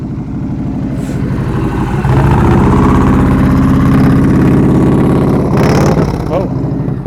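A motorcycle engine idles and then revs in bursts during slow-speed riding practice, rising louder mid-clip with a few throttle blips near the end, heard close up.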